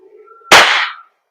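A WE Glock 35 Force Series T7 airsoft gas blowback pistol fires a single sharp, loud shot close by, a snappy crack with a brief hissing tail and no other sound.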